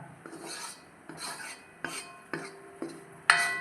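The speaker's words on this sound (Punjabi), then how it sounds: "ਆਪਾਂ ਇਸ ਤਰ੍ਹਾਂ ਦਾ ਆਟਾ ਹੀ ਭੁੰਨਾਂਗੇ" A utensil stirs wheat flour (atta) as it roasts in a metal pan, producing a series of close, dry rasping scrapes in an irregular rhythm, with light metallic clinks against the pan.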